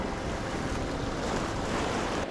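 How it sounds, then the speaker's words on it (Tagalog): Strong waves break on a beach during fishing, a loud, continuous roar of surf mixed with heavy wind buffeting the microphone and no voices. "Malakas yung alon guys"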